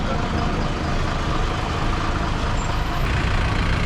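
A truck on a road in Ladakh, a continuous loud engine rumble and road noise, close and steady throughout, with speech mixed faintly underneath.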